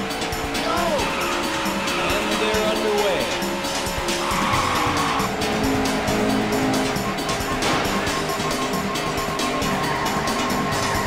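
Race car engines in the arcade racing game Daytona USA whine steadily at high pitch, with tire squeals and shifting revs over a constant loud bed of game audio, continuous for the whole stretch.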